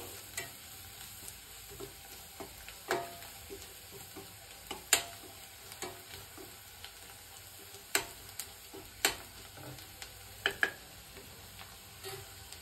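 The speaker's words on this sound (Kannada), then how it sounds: "Garam masala, turmeric powder. ಇದಿಷ್ಟು ಎಣ್ಣೆಲಿ ಫ್ರೈ ಆಗಲಿ." Garam masala and turmeric powder fry in oil in a pan for an egg masala curry. A faint sizzle runs under sporadic clicks and scrapes of a spoon stirring against the metal, quiet and close, with no voices.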